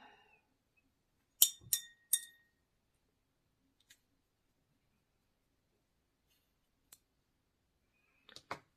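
A watercolor paintbrush is rinsed in a glass jar of water, tapping the glass in a quick cluster of three sharp, bright clinks, with a few fainter ticks later. The setting is otherwise quiet, with no talking.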